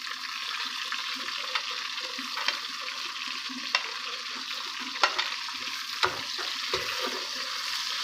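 Onion, garlic, ginger, tomatoes and green chillies frying in a pan, a steady close sizzle with occasional stirring knocks and scrapes, no talking.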